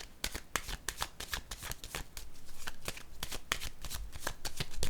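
Cards being shuffled and laid down for a card reading, a quick run of crisp riffling flicks and slaps close up, continuing steadily throughout.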